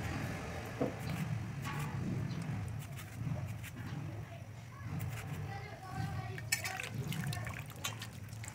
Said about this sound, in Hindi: इसको पानी में से धोकर निकाल लेंगे इसको